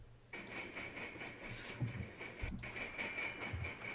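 At a railroad crossing, a train rolls past, faint and distant, a steady rumble with light rhythmic clacks under a persistent high tone, with no talk.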